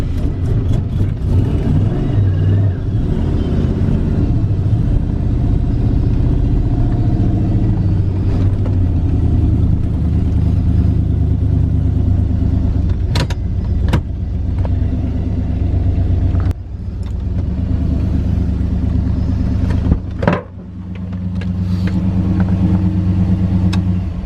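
A turbocharged car engine runs with its stock exhaust, a steady low rumbling idle close by with a few brief revs and clunks partway through, the drone continuing without a break.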